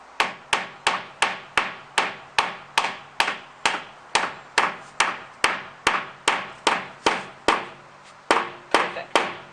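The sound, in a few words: hammering van floor panels together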